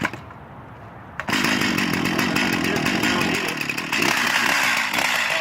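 A chainsaw revs up loud and steady as it cuts into a downed tree outdoors, the engine whining continuously after a brief quieter idle at the start.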